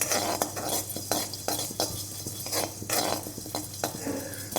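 Pepper, jeera and dal dry roasting in a kadai without oil, heard as a steady scraping and clinking of a spatula against the pan, with a faint sizzle throughout.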